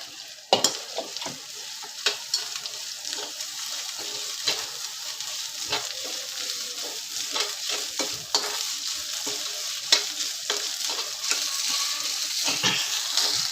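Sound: frying onion and curry leaves with ginger-garlic paste

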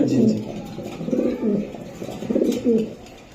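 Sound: pigeons cooing, racing and breeder pigeons

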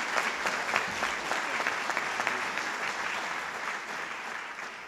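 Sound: audience applause for award recipients

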